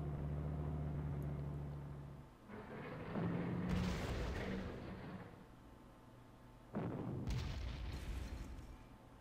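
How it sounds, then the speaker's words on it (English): Artillery bombardment in the World War II strategy game Panzer Corps: a low engine-like rumble gives way to a series of heavy booming blasts with crackling debris, about three separate explosions that swell and fade. "final artillery bombardment"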